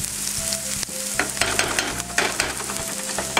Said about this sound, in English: I got some oil in a pan here. I just got a little bit of onion and garlic.